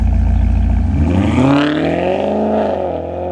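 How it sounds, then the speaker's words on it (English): A car engine runs with a low rumble, then revs up, its pitch rising through the middle and easing back down toward the end, loud and close throughout. "and a car engine."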